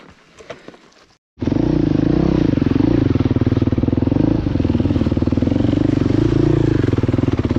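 ATV engine revving loud and close on a trail ride at Rock Run Recreation Area in Patton, Pennsylvania, starting abruptly after a brief quiet moment and holding a steady rough, rattly drone with slight pitch swells.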